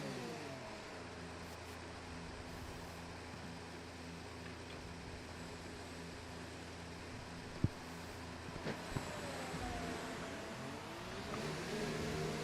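F1 race car engine in the video game F1 2019, a steady droning hum with shifting tones as the car heads onto the track, fairly quiet and with no talking.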